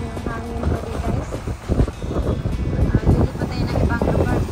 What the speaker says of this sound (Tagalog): still malakas pa rin yung hangin pa rin guys